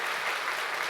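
An audience claps loudly and steadily at a university presidential inauguration ceremony, a dense continuous applause with no voices.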